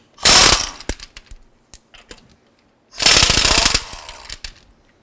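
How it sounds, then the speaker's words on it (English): An impact wrench loosening wheel lug nuts on a 2006-2011 Honda Civic, two harsh rattling bursts about three seconds apart, close and loud, with small metallic clinks in between. "remove these lug nuts and get the wheel pulled off"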